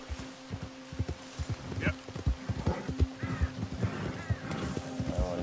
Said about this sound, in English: There's a goddamn horse, I'll tell you that